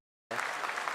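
Applause breaks out suddenly from an audience at the ISRO Chandrayaan-3 moon landing broadcast, a faint but dense patter of many hands clapping.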